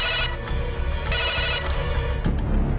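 A telephone rings in a TV crime drama, a bright electronic ringtone pulsing in repeated bursts, loud and close over a busy musical background.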